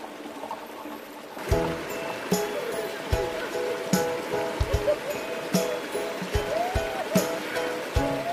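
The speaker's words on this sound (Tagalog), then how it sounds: "Sarap pakinggan ng alon, no? Nakaka-relax siya." Continuous rushing water of a flowing river, close and fairly loud, with people talking over it and occasional splashes and knocks.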